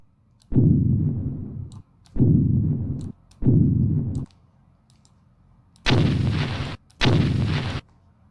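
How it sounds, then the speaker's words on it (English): Rumble sound effect made for Jurassic Park-style sound design, pitched down to C2, comes in five deep booming bursts, three evenly spaced and then two closer and brighter, each with a heavy low thud and short tail. "So here's the regular sound effect for the rumble."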